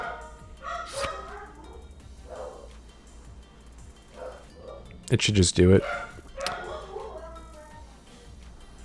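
A pet dog barks in a sharp, loud cluster of yaps, close by in a room, while a person talks over it.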